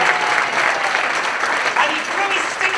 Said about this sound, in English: Give Pete a round of applause